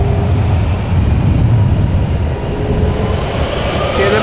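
KLM jet engines spool up for departure at Amsterdam Schiphol in stormy weather, a dense, steady, near roar holding throughout the short stretch, with faint voices beneath it.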